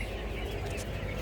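Japanese chickens and young chicks clucking softly and continuously at a poultry farm, a steady low flock murmur with no talk.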